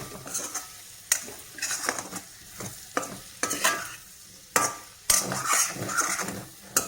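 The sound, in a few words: stirring turmeric and coriander into vegetables in pan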